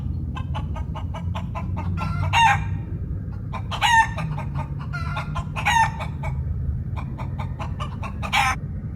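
A rooster on launch day gives several loud, close crows between runs of rapid clucking, over a low steady background hum.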